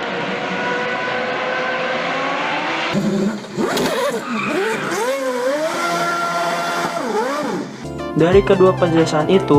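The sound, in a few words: Honda V8 Super GT race car engine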